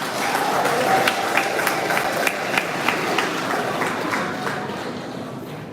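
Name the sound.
audience applause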